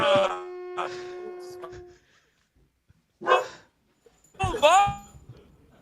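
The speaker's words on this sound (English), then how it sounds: "We have Vinny barking." A dog barks in a few short, sharp bursts, fairly close, with quiet gaps between them and no talking.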